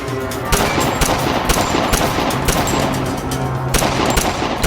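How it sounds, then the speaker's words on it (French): Dramatized gunfire shootout: rapid, loud bursts of automatic fire mixed with single sharp shots, coming thick and close across the whole stretch. "Quelques secondes plus tard, la fusillade avait commencé."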